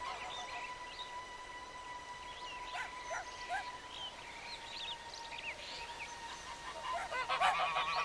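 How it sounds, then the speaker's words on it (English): Domestic geese honk in faint, scattered calls over quiet outdoor background noise, with a cluster of louder honking near the end. "Captain Duncan's geese, indeed his dog, are too close for comfort"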